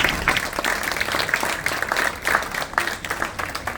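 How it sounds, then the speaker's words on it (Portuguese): Audience applause after a musician's performance of songs at an author presentation event, a steady dense wash of clapping from a crowd throughout, fairly close and even in loudness. "Uma salva de palmas, por favor"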